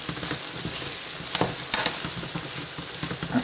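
Roasted mutton curry being mixed in a pan as yogurt goes in, a steady close sizzle and fry hiss with a few scraping stir clicks, no talk.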